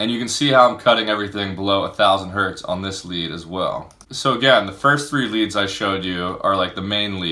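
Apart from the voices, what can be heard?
No distinct noise like a dog, phone or traffic.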